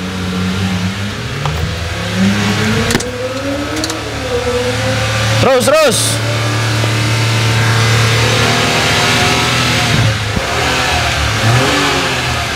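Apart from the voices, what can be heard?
Honda Civic FD car engine revving during jump start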